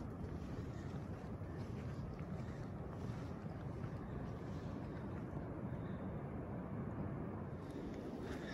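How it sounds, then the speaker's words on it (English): Steady broadband roar of Pacific surf washing onto a sandy beach at Bullards Beach State Park, Bandon, Oregon, continuous and fairly loud, mixed with wind buffeting; no talking. "Can hear the waves crashing on the beach."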